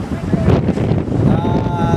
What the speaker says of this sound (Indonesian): Di sini bisa kami dapatkan angin sangat kencang sekali.